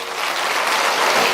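Church congregation applauding together in a sustained, dense burst of clapping that holds steady at close range for the whole stretch, with no voices over it.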